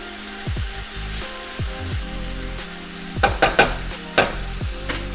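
Tomatoes stirred in a hot frying pan for upside down rice, with repeated scraping strokes of a spoon over a steady sizzle, then a few louder knocks of the utensil against the pan near the end.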